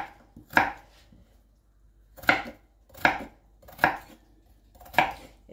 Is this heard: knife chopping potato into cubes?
yes